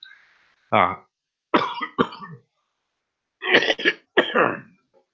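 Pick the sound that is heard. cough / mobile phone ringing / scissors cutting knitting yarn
cough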